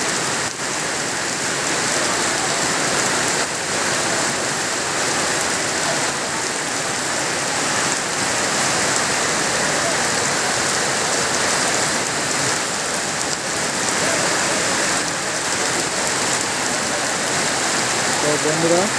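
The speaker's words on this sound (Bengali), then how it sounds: "মুষলধারে বৃষ্টি যেটাকে বলে।" Torrential rain in Noakhali, Bangladesh, a loud unbroken roar of heavy downpour drumming on surfaces for the whole stretch, with no talk.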